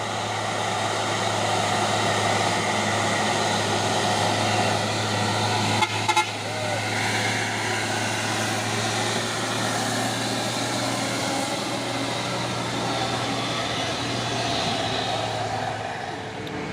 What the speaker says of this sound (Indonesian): Terpantau ramai lagi kendaraan yang berlewatan dari tanjakan Bukit Kodok